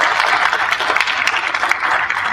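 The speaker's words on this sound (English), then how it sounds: "Let's give her a round of applause." An audience at an education forum claps steadily in a dense, continuous burst of applause throughout, fairly loud and close.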